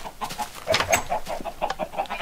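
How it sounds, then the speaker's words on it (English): Chickens in the video game Minecraft cluck in a run of short, repeated bursts at a fairly close, moderate level, with no talk over them. "I put a bunch of chickens back here"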